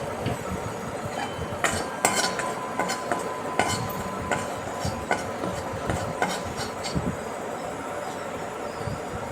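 Spice powder for hog plum chutney is stirred and roasted in a pan, with repeated scraping and rubbing strokes close by and a steady low rustle underneath.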